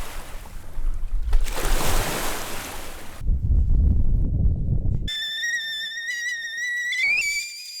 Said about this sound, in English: Water sound effects of the Columbia River.